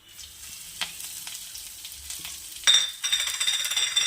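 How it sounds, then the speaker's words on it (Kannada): Curry leaves sautéing in ghee in a pan, a steady close sizzle that jumps louder and crackles harder near the end as the leaves hit the hot fat. "ಹಾಕಿ ಸ್ವಲ್ಪ ಬಾಡಿಸ್ಕೊಬೇಕು ತುಪ್ಪದಲ್ಲಿ"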